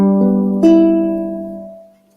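Ukulele in high G tuning: two bright chord strums in quick succession, the second one ringing out clearly and slowly decaying to silence over about two seconds.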